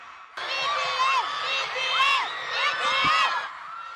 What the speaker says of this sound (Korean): BTS가 대통령궁 발코니의 모습을 드러내자 환호는 절정에 이릅니다.